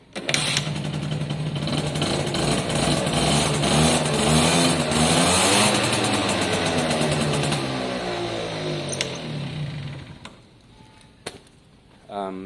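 A motorcycle with a newly fitted ignition runs close by, a loud steady idle whose pitch wavers and then drops away as the engine shuts off near the end, followed by a faint click.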